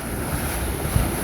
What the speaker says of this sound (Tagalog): grabe yung hambalos ng alon eh